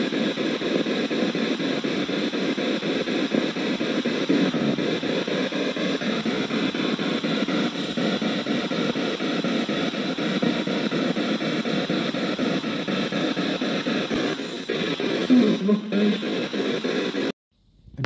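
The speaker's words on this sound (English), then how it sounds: "This spirit box scans through radio frequencies very fast to make white noise." A spirit box rapidly scanning radio frequencies produces dense, continuous hissing static with rapid choppy fluctuations, loud and unbroken for the whole stretch, then cutting off abruptly at the end.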